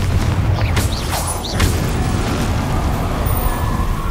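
A Confringo fire spell bursts in Hogwarts Legacy with a muffled boom and crackling blast, followed by a rumbling, noisy tail of fire and debris that fills the whole moment, with no talk over it.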